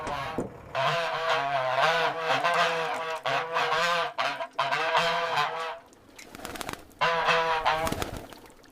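Geese honk repeatedly in loud, overlapping calls, a brief lull, then another burst of honking close by, inside a goose processing factory.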